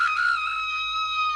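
A woman lets out a loud, sustained, high-pitched scream at a Sunday race meeting, held steadily for over a second with no talk around it.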